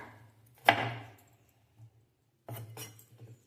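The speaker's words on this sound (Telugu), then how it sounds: "ఇలా కట్ చేస్తున్నాను ఉల్లిగడ్డ కట్ చేసుకున్నాను" A knife chops onion on a board: one sharp, loud chop that rings out, a quiet pause, then a quick run of closer, lighter cuts, with no voices.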